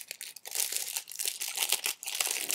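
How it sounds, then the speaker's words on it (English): Plastic cellophane wrapper crinkling and tearing open as a little baggie of hair product is unwrapped, a steady close run of sharp rustles and crackles with brief pauses, no talking. "Open up the cellophane wrapper, little baggie."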